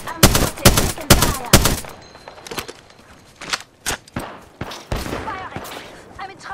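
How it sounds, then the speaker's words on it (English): Rapid bursts of gunfire in the Apex Legends video game, several sharp close shots in quick succession followed by scattered single cracks and lighter clatter. "I'm spotted. Taking fire."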